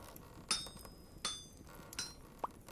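Metallic hammer clinks from the video game Vintage Story, three bright ringing strikes spaced about a second apart followed by a shorter duller knock, fairly close over a quiet hiss.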